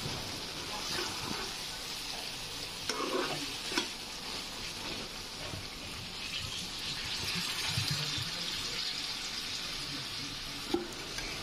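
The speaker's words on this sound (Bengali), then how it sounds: "জল দিয়ে একটু হালকা হালকা নাড়াচাড়া করে নেব" Browned beef in a pot being stirred after water goes in, a steady close sizzle and bubbling with soft scraping strokes and a couple of light clinks throughout.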